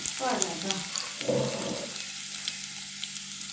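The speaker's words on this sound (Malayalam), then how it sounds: "കുറച്ച് ഓയിൽ ഒഴിച്ചു കൊടുക്കുക ഞാൻ ഇപ്പം സൺഫ്ലവർ ഓയിലാണ് കേട്ടോ ഒഴിച്ചു കൊടുത്തത്" Sunflower oil sizzles in a pan while Korean-style chilli garlic is cooked, a soft, steady hiss heard up close, with a short murmur of tonal sound near the start.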